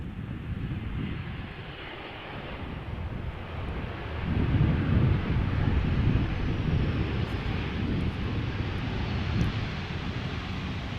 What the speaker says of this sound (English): this is a 737-800 arriving from Copenhagen